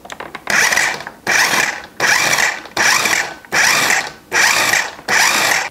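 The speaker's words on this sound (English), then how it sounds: "We're going to attach the lid and pulse it until it's diced." Food processor pulsing a quarter red onion and a garlic clove for guacamole, six loud, evenly spaced whirring bursts of about half a second each, separated by short pauses.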